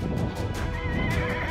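A horse whinnies loudly and close while hooves clip-clop in a quick, steady rhythm during a cattle-droving ride in rural Australia, with no voices.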